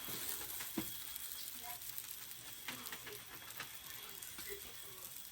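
Haitian rice and beans being stirred in a pot, quiet scraping and soft clicks of a spoon over a low simmering hiss, faint and close, with no voices.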